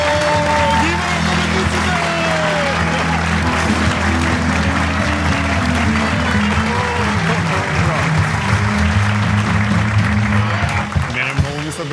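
A television studio audience applauding Sara and Nikola, a steady wash of clapping that runs throughout while a voice and music-like tones sound over it.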